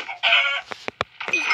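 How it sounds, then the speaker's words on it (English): A chicken in the Minecraft video game gives a few loud, close, squawking clucks in quick bursts, with short gaps between them and no talking over them. "I just killed a chicken."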